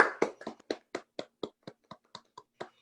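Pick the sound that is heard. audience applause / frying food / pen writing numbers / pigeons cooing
audience applause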